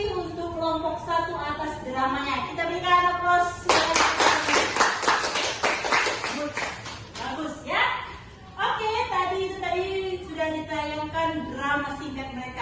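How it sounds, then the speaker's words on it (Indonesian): A group of listeners applauds after a class drama performance by a student group, with dense clapping bursting in loudly for several seconds amid speech and chatter before and after. "Kita berikan aplaus."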